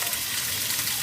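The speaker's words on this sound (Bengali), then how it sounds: "এটা আমার কষানো শেষ, এখন আমি জল দিয়ে দেবো।" Water pours steadily and close into a pan of taro cooked down with spices, a continuous rushing splash with no talk over it.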